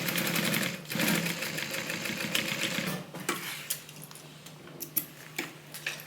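A sewing machine stitches a Bible cover in a burst of dense, rapid mechanical ticking for about three seconds, then stops, leaving a quieter room with scattered clicks and light handling noise.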